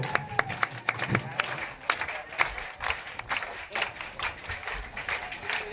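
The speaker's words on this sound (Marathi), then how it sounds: "टाळ्यांचा कडकडाट" A crowd at a children's arts and sports festival claps continuously, dense and lively applause with some shouting voices mixed in.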